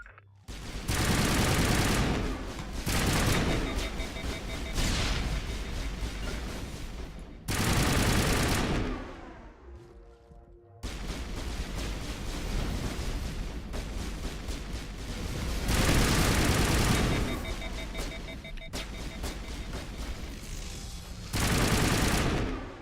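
Sustained rapid gunfire from an overheating player weapon in Mass Effect Legendary, loud dense bursts separated by brief pauses as the gun cools, with no talking.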